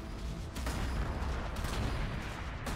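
Rumbling game gunfire in Warhammer 40k: Gladius as Astra Militarum troops shoot at an Ork motorbike, a dense barrage of low booms with a couple of sharper reports, loud and continuous throughout.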